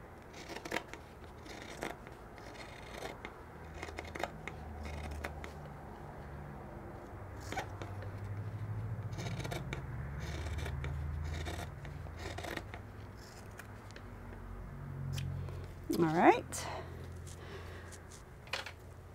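Scissors trimming fabric around a machine embroidery piece, quiet intermittent snipping and rustling cuts spread across the stretch, close but faint, with no talk.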